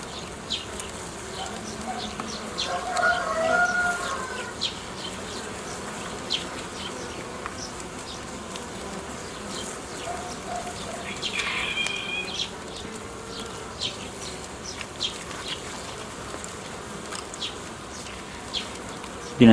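Honeybees at an opened hive drone in a steady, close swarm buzz for the whole stretch, with individual bees zipping past the microphone and faint frame handling in the background.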